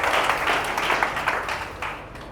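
An audience at a direct-selling marketing talk claps for RCM, a dense patter of hands that stays fairly steady and moderately loud, then thins slightly toward the end.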